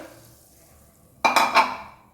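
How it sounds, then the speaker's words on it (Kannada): Soaked chickpeas poured with their water into a pressure cooker for a Kannada kadalekaalu usuli, a sudden close splashing rattle in two bursts after a quiet stretch. "ಮೊದಲು ಕುಕ್ಕರ್ಗೆ ನೆನೆಸಿಟ್ಟಂಥ ಕಡಲೆಕಾಳನ್ನ ನೀರು ಸಮೇತ ಸೇರಿಸ್ಕೋಬೇಕು."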